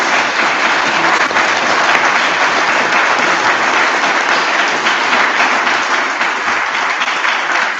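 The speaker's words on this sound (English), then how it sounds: "Round of applause, please, for our general election candidates." Sustained loud audience applause at a constituency hustings event for general election candidates, dense clapping from a large crowd continuing evenly throughout without a break.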